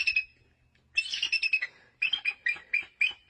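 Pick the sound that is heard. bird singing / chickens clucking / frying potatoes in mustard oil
bird singing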